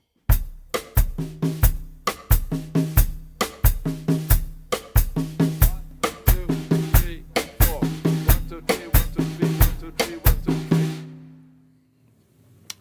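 Played on a drum kit, a 12/8 Afro-Cuban groove sets a steady bell pattern against a conga pattern on the drums, producing sharp repeated strikes in a lilting rhythm for about eleven seconds before the sound dies away.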